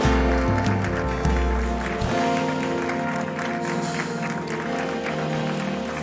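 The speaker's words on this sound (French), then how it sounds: "toute l'Église applaudisse et acclame encore une dernière fois Jésus." A church congregation applauds at the close of a worship service, a sustained dense wash of clapping over low instrumental tones, loud and continuous with no talk.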